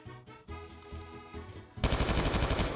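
Black Ops 2 gunfire: quieter rapid shots at first, then a loud, dense automatic burst bursting in near the end and holding strong.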